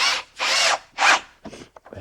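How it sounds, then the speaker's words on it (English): A power drill pre-drills screw holes in wood for a cross member on a basement fireplace enclosure, three loud close whirring bursts followed by shorter scraping and rubbing noises. "He's pre-drilling holes and then putting the screws in to lock that cross member in at that angle."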